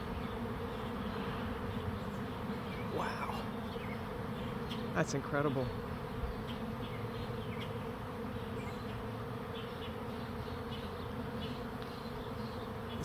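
A large honeybee swarm drones steadily around a backyard swarm trap, a dense continuous buzz with individual bees passing close now and then; a person briefly speaks over it.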